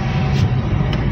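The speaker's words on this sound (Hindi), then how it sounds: "आज तो गाड़ियों की आवाज आ रही है" Traffic rumbles past on a road in Delhi near a bridge under construction, a loud, steady low drone of engines heard from close by, with no talk over it.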